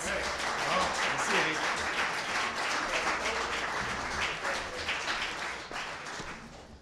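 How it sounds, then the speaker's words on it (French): A large audience at an award ceremony gives a sustained round of applause for a society president, dense clapping that stays level throughout and tapers only slightly at the end. "Mesdames et messieurs, une bonne main d'applaudissements"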